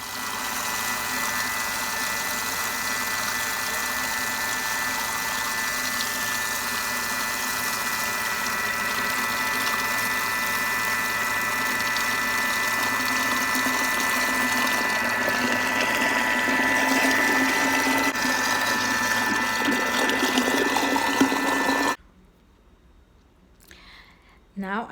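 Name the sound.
kitchen mixing machine running at speed 4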